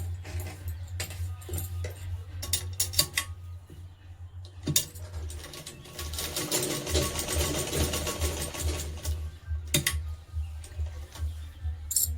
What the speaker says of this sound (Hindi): अब यहाँ पे कच्ची सिलाई लगा लेंगे।